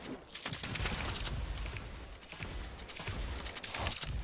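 Rapid bursts of video game gunfire crackle throughout, dense and loud, with a voice speaking briefly over the shooting.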